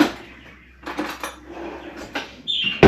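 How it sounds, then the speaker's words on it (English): Regular flour being spooned out of a container for a from-scratch chocolate cake, several close scraping and tapping clinks of a metal spoon against the container, irregular and fairly loud in a quiet kitchen. "So I'm gonna spoon out our flour."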